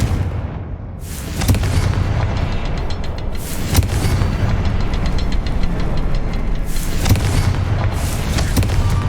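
A Confringo explosion spell goes off in Hogwarts Legacy, a series of loud booming, crackling bursts with sharp impacts repeating over a sustained rumbling roar, no talking.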